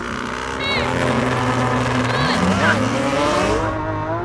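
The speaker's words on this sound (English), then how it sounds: "That Lamborghini that Yanni's in is so loud, it deafens me as it goes past" A Lamborghini Aventador SVJ's powerful engine roars and climbs in pitch as it accelerates hard past in a drag race, with a brief tire squeal and voices in the background.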